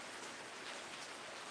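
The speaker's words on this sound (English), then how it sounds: "well, it's really raining," Heavy rain pours down in a steady, dense hiss of drops striking surfaces, constant and enveloping throughout with no voices.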